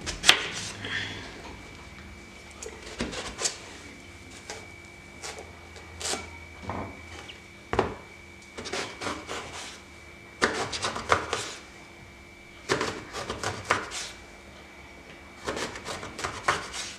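A kitchen knife chopping eggplant on a board, sharp irregular knocks arriving in short clusters with quiet gaps, close and fairly crisp, a faint steady tone humming in the background.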